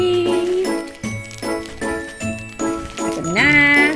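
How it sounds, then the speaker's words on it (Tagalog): A small Christmas bell on a Mini Beans blind box toy from the Naughty Boy Winter Series jingles in repeated, close, bright shakes about every half second, alone without talk. "Cute bell. I like the bell."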